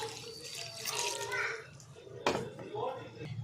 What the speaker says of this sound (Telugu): ఇవన్నీ వేసుకున్నాక ఇంకొక గ్లాస్ అంతా వాటర్.